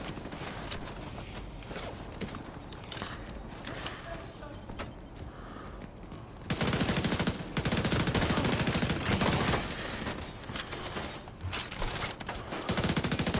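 Automatic weapon fire in The Division 2, with quieter in-game noises first and then a sustained loud burst of rapid shots that continues to the end, under some talk.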